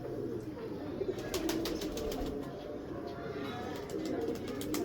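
Sialkoti pigeons coo softly against a steady, dense background hum, with faint chirps and someone speaking now and then.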